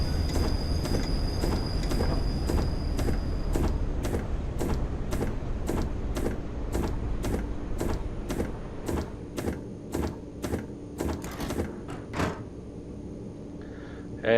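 A four-car London Underground train in Train Simulator Classic pulls into the platform with a steady rhythmic clickety-clack of wheels over rail joints that slows and fades out as the train stops.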